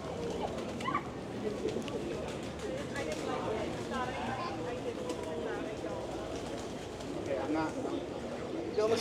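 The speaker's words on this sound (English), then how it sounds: "Pigeon!" Pigeons coo repeatedly around an outdoor spot in Puerto Rico, soft rolling calls rising over a busy ambient wash, with a few scattered bird sounds and background bustle.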